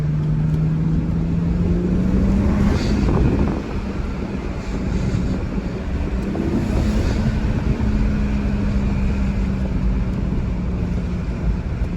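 A 2007 BMW 335xi twin-turbo E90 sedan with stock exhaust and a cold air intake, heard while driving: a steady engine drone with slight pitch shifts, partly masked by loud wind and road noise.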